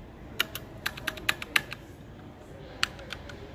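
Fingers type on a computer keyboard during a typing test at a Best Buy store: an irregular run of sharp, close keystrokes, a brief pause, then a few more scattered clicks over faint room noise.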